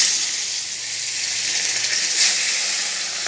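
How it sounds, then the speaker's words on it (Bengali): Turmeric-and-salt-coated hilsa fish fries in hot oil in a wok, giving a steady close hiss and sizzle with a slight surge toward the end. "এবার আমি হলুদ নুন মাখানো ইলিশ মাছটাকে এক এক করে ভেজে নিচ্ছি।"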